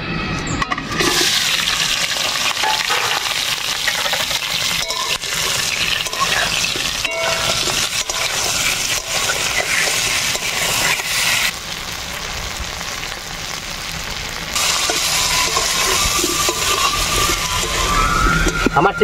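Prawns hit hot mustard oil in a pan and fry with a loud, continuous rushing sizzle that surges and settles over nearly twenty seconds, with a voice talking over it.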